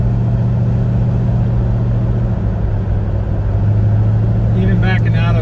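A car engine with a C4 automatic transmission drones loudly and steadily as it accelerates without shifting into third gear, a low sustained rumble with a voice briefly speaking near the end.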